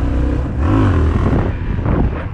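Yamaha XT660 motorcycle revving up in second gear with no clutch used, a loud, close, steady engine drone that rises in pitch through the clip, with some wind buffeting.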